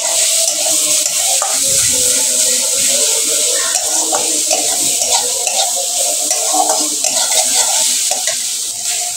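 Turmeric, chili powder, salt and ginger-garlic paste being stirred and mixed in a pan for a watermelon-rind dish, a steady scraping stir over a continuous close sizzle with no talking.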